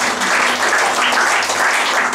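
A church congregation claps together in a steady, close, full burst of applause that fills the room without a break, with no voices standing out.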